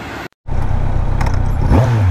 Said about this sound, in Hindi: ये पुलिस वाला गाड़ी आ गया भाई